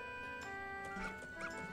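Dog in Zelda: Majora's Mask giving a few short, high yips and barks over a looping game music track, quiet and in quick succession.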